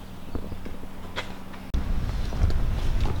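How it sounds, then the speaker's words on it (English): Strong wind buffets outdoors at a garage workspace, a steady rushing roar that jumps louder and heavier halfway through, with low gusty rumble dominating. "It's windy as shit outside."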